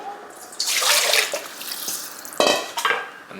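Water is poured into a pizza dough mixing bowl in a home kitchen, giving a splashing, sloshing pour that starts and stops in short bursts alongside a few light clinks.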